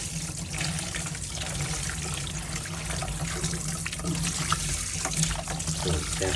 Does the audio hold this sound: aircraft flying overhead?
no